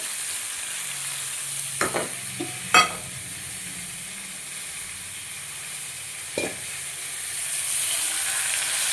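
Potatoes and cauliflower with tomato, salt, turmeric, chilli powder and a little sugar fry with a steady close hiss, broken by a few sharp clinks and scrapes as a utensil stirs the pan.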